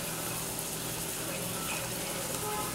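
Cassava dumplings rolling in a pot of boiling water give a steady, dense bubbling and hiss that holds evenly from start to finish, close and fairly loud, with no voices over it.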